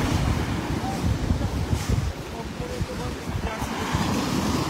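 Strong sea waves surging onto a beach in Sultan Mastura, Maguindanao del Norte, a continuous loud roar of surf with heavy wind buffeting the microphone.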